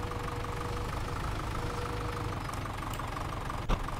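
A tractor engine in a survival roleplay video game runs with a steady, loud, low idle throughout, broken only by a brief knock near the end.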